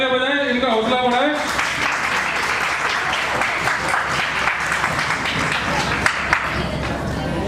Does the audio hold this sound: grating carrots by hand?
no